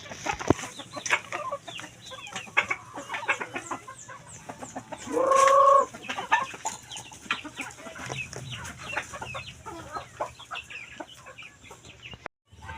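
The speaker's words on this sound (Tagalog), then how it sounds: "Mamahog na siya sa manok." Chickens being fed in a backyard coop, clucking and calling in scattered bursts throughout, with one louder, nearer call partway through and faint background noise.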